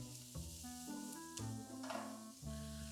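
Carrots hitting a hot pan for a vegetarian cauliflower stew, a steady close sizzle with stirring clatter and bursts of frying as pieces land, no voice.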